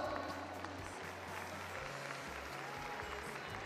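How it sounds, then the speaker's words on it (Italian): Steady crowd applause welcoming Professor Moretti at the Sport per la Vita memorial event in Roseto, a continuous dense wash of clapping at moderate distance with a low hum beneath. "un grande applauso"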